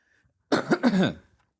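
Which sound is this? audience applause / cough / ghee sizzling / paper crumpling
cough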